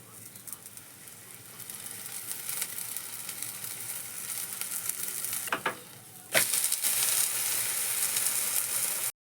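Millet and fenugreek dosa frying in oil on a hot pan, giving a steady close sizzle and crackle that swells louder after fresh oil goes in partway through.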